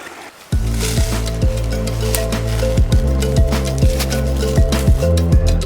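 Wading through a shallow creek in Twin Springs Canyon, close splashing and sloshing steps through water, with squelching footfalls repeating under a continuous rushing stream.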